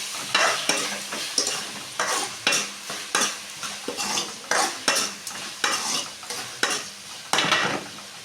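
Onions and tomatoes with salt get stirred in a pan, a spoon scraping in regular repeated strokes over a soft sizzle, close and clear with no talking.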